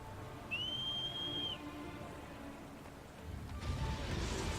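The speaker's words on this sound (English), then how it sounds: "I think at this point I'm whistling for Malice." A single sustained, clear high whistle from the player character in Shadow of the Colossus cuts through the steady game ambience, followed by a rising rumble of noise.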